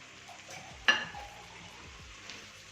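Tomatoes hit a hot pan of chicken jalfrezi with a sharp sizzle and a clatter, then a low frying hiss continues with faint stirring and a small utensil tap; no talk.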